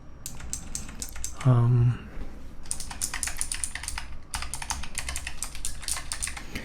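Dense, steady typing on an experimental optical mechanical keyboard, close and moderately loud, with rapid clustered keystrokes, one brief pause and a short low thud near the start.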